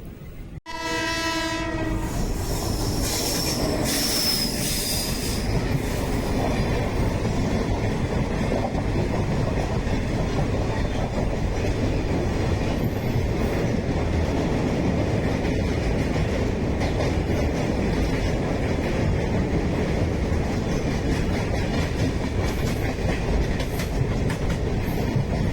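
Jan Shatabdi Express train running on the rails between Coimbatore and Irugur, a brief horn blast at the start, then a steady loud rumble with rhythmic wheel clatter continuing throughout, heard from on board with no talk.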